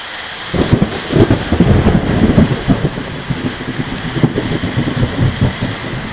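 Steady rain hisses in strong wind while low thunder rumbles roll underneath, swelling early and then settling into a continuous background roar.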